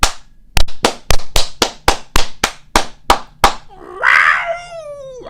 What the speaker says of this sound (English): Let's clap this in.